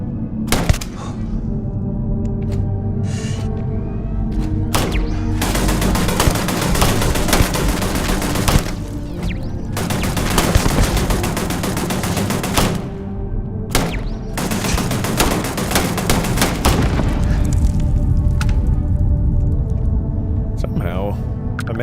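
Rapid bursts of automatic gunfire from turrets in a video game, loud and near, firing in several long volleys with brief gaps, under continuous game noise.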